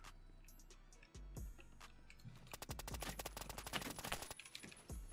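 Rapid gunfire from the Phantom Forces shooter game, a dense run of sharp repeated shots in the second half of a one-on-one match, following a quieter stretch of faint clicks and game noise.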